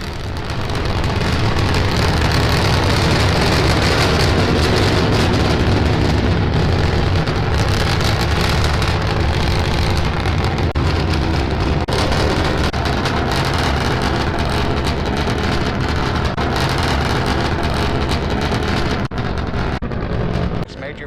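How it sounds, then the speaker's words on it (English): Three Raptor engines fire on a SpaceX Starship SN9 test flight, making a loud, continuous crackling roar that barely dips before cutting out at the end, with commentary talk over it. "View on the right shows 3 Raptor engines burning."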